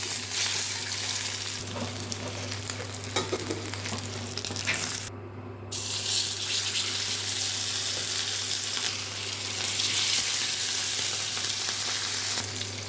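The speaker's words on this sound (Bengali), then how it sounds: "মাছগুলো হালকা করেই ভেজে নেব, কেন ইলিশ মাছ বেশি ভাজলে ভালো লাগে না" Pieces of hilsa fish fry in hot oil, filling the scene with a loud, continuous close sizzle and crackle, with a brief dip partway through and occasional stirring.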